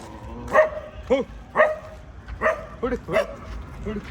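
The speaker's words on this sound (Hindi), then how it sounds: "और ये कालू देखो भाव कर रहा है" A dog barks near a house at night, giving about eight short, bright barks and yips at uneven intervals roughly half a second apart, loud and close.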